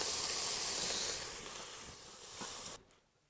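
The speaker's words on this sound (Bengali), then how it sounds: "চিংড়ি মাছগুলো আমি আগে থেকে নুন হলুদ মাখিয়ে রেখেছিলাম। এবার ভেজে নেবো সুন্দর করে" Prawns marinated in salt and turmeric fry in a hot pan, giving a loud, close hiss that fades over a few seconds before cutting off abruptly.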